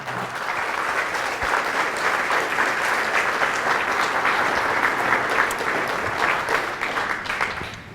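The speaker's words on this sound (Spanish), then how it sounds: "Fuertes aplausos a Jesús." Loud, sustained applause from a Catholic church congregation, steady dense clapping that holds at full strength from start to finish with no voices above it.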